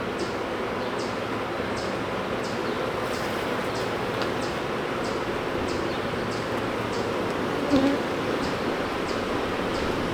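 Honeybees hum around a hive that has just swarmed, a steady close buzz running through the whole stretch with a few faint clicks and a brief louder bump near the end.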